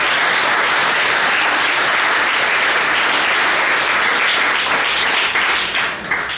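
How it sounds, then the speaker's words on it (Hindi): Loud, sustained applause from a school audience at a Rashtra Chetna Yatra gathering in Kaithal, Haryana, dense clapping filling the whole stretch before tapering slightly at the end. "जोरदार तालियों से"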